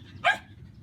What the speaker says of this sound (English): Try to find a nice quiet place to go to, but he wants to bark.